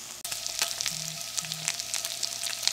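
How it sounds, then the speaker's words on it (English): Bacon crisps in a hot pan with leftover bacon grease and sausage for a keto meal, giving a steady close sizzle dotted with sharp crackles and pops, with nobody talking. "So first thing I like to go in with to start cooking first is my bacon"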